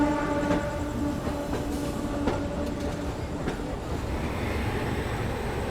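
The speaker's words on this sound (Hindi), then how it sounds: "हर एक प्लेटफॉर्म पे एक ट्रेन यहाँ से निकलने के लिए।" A train at the platforms of Chennai Egmore station, with a steady low rumble, metallic clatter and tonal hum from the rail cars, plus faint higher whistling tones, close and continuous, with no talk.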